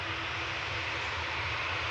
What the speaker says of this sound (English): Swift Air from Guernsey, ATR 72, ECKKQ, flight 75